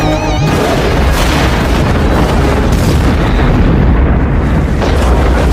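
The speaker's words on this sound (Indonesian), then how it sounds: "Semua ranjau yang lain ikut terpicu dan menjadi sebuah ledakan besar." A chain of buried mines detonating together in an action film, a loud sustained booming roar with heavy low rumble and crackling debris throughout, no pauses.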